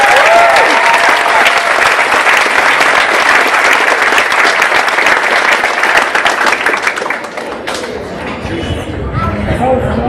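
A large audience at a Saba Day ceremony claps loudly and continuously, a dense wash of many hands that starts at full strength and tapers off toward the end, with a little chatter mixed in.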